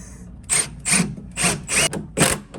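A driver sinks 3-inch Torx deck screws into wood blocking in five short, whirring-rattling bursts with brief pauses between, close and fairly loud, with no talking.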